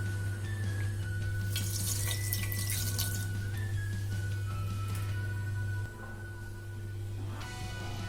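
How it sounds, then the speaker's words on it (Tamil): Water runs steadily from a tap into a pressure cooker, a close, continuous splashing rush that softens slightly near the end, with no speech. "ஃபஸ்ட்டு தண்ணி ஊற்றிக்கலாம்"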